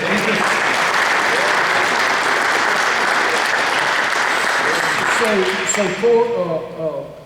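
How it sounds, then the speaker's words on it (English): A packed touchdown club meeting gives Bill a warm round of applause, loud and continuous clapping that fades toward the end as a voice begins talking over the tail. "So just give Bill a round of applause."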